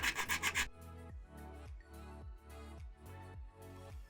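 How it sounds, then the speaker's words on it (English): Rhythmic rubbing strokes of an 80-grit sanding stick on foam, repeated back-and-forth scrapes at an even pace, close and quiet. "I'm going to take a 80 grit sanding stick I have here and just smooth it out"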